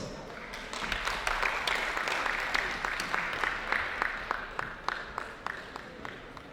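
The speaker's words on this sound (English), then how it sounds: "Please give a round of applause." Audience applause at a Ramadan festival presentation, a steady wash of many hands clapping that fills the room for several seconds and slowly thins out toward the end.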